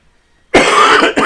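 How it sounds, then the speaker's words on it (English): A loud, close cough bursts out after a moment of silence, rasping for over half a second, then a second shorter cough follows. "I'm really sorry about the coughing"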